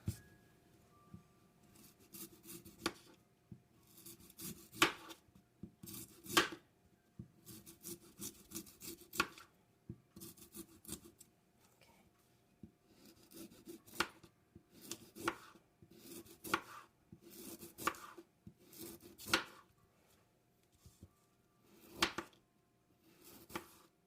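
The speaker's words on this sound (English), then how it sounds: "I'm going to make thin slices, super thin if I can." Food thinly sliced with a knife on a board in a quiet kitchen, a steady series of crisp, close cuts spaced about a second apart.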